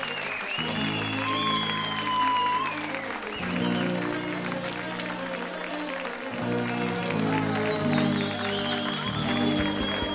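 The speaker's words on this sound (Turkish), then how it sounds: "Alkış, alkış." Audience applause rises over sustained, tonal music, the crowd's clapping forming a continuous bright texture above the steady accompaniment.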